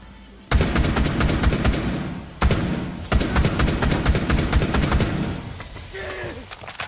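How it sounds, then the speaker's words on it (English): Rapid gunfire strikes a shield in Rainbow Six Siege: loud, dense bursts of automatic shots and impacts run almost continuously, breaking off briefly near the middle before resuming. "Oh, thank God he's shooting your shield."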